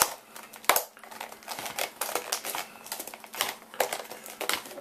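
Utility scissors snip through tough clamshell plastic packaging for a Coast HP7 LED flashlight, giving close, loud, irregular crunching and crackling cuts, some sharper than others, with no talking.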